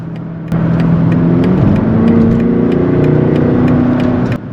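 A BMW X6 M60i sport SUV pulls hard under acceleration, its engine growl rising in steady pitch alongside a loud, continuous exhaust note, with faint clicks scattered over the sustained roar.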